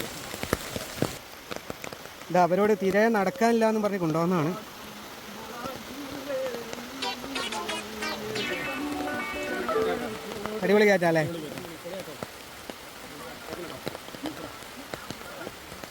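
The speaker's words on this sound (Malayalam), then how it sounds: "നല്ല വൈബാണ് മക്കളെ. നല്ല മഴ." Steady rain falls during a walk along a concreted path toward a waterfall in Kozhikode, a constant close patter heard under people talking.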